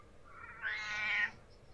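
A pet cat gives a single drawn-out meow close by, rising then falling, heard alone in a quiet room.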